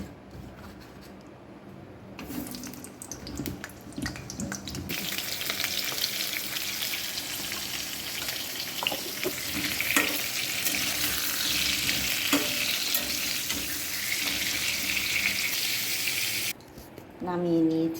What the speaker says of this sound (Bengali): এবার পটলগুলো আমি ভেজে নেব।